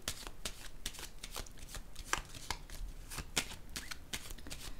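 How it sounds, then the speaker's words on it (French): Tarot cards being handled and laid on top of one another, a close, quiet run of crisp flicks and soft slaps in a quick irregular rhythm. "Je vais déposer une carte sur celle-ci."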